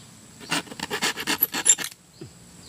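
A hand saw cuts through a pethuk bamboo stem in a quick series of about ten rasping strokes. The strokes are close and steady, then stop, leaving near silence.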